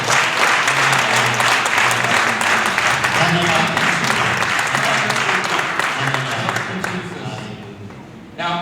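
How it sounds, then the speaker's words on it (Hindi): A church congregation claps steadily through an Easter Sunday sermon, loud, dense applause that fades slightly toward the end while a voice speaks briefly over it. "ताली बजा के प्रभु को जय।"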